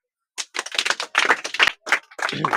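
A rural school classroom of children gives a student a round of applause, uneven bursts of hand claps in quick clusters separated by brief pauses, fairly close.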